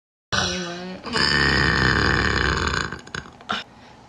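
A loud, long, guttural burp from a girl, close to the mic, rumbling for about two seconds before trailing into short breathy sounds and a final brief burst.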